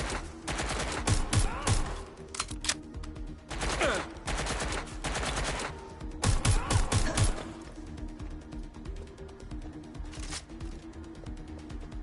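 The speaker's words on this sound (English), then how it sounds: "Shooting!" Gunfire in Watch Dogs: Legion: bursts of rapid automatic shots come in several loud clusters separated by short lulls, sharp and close, with a faint game soundscape between the volleys.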